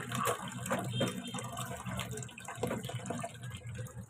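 Tap water runs and splashes into a container beside a washing machine, a fairly faint, uneven gurgling stream with small knocks and handling sounds mixed in.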